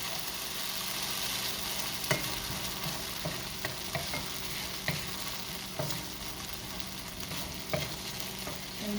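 Onions caramelizing in a pan over medium heat, a steady close sizzle with occasional soft scrapes and clicks of stirring, no voices.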